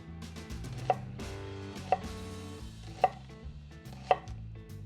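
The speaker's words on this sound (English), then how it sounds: "We're gonna cut this onion in half, peel off a layer, and we're gonna slice them pretty thin." A knife cuts through a halved red onion onto a board, four evenly spaced sharp taps about a second apart, close and clear over a quiet musical background.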